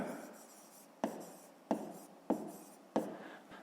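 Pen writing in a school math notebook, heard as a series of five scratchy strokes, each starting with a sharp onset and then fading as it drags across the paper, close and quiet with no voice.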